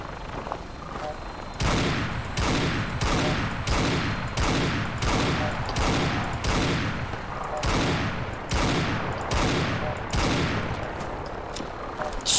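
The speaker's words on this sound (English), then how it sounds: "Yeah, you're shooting at me now." Gunfire in the video game Fallout 4, a dozen loud, evenly spaced shots or bursts repeating roughly every half second to second, up close.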